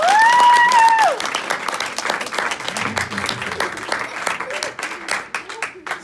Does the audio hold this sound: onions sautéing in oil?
no